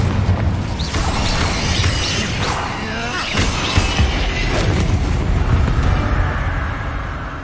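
A fire spell cast in Hogwarts Legacy, a dense roaring, crackling burst with booming impacts and clattering debris that stays loud and steady throughout, set in a grassy catacomb.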